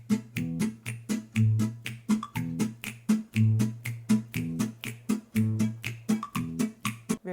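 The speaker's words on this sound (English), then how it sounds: "Minimal finger snaps." Minimal, evenly repeating finger snaps generated by Mozart AI, crisp and close over a low, steady musical backing, with no voices.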